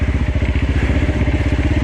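A heavy motorcycle rides along a narrow single-track trail, its engine close and loud with a fast, even pulsing chug that holds steady for the whole stretch, with no talking.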